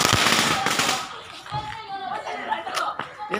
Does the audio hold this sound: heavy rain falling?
no